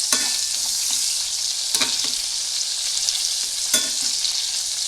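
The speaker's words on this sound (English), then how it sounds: "You kind of could tell when it comes down to like the sizzling kind of stops." A burger patty fries in a hot pan for a barbecue bacon burger, giving a steady, dense sizzle and crackle throughout, close and fairly loud, with a couple of brief louder spatters and no talk.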